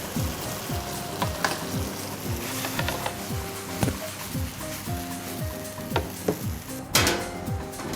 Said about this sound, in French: Et là je rajoute mon fond de veau pour glacer ma poêlée